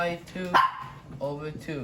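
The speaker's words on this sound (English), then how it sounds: "Sorry, that's my dog." A pet dog barks a few short, sharp times indoors behind a person explaining a geometry problem, the barks mixed with and partly under the speech.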